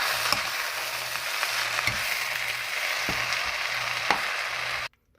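Quinoa stir fry with a splash of soy sauce sizzles steadily in a hot pan while being mixed, with a few soft scraping strokes and no talking, ending abruptly.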